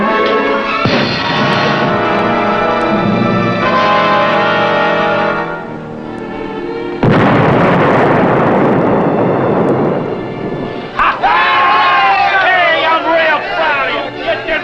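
Torpedoes fired from the submarine USS Seashark explode in a loud, rough broadband blast midway through, set between stretches of tonal background sound and speaking voices.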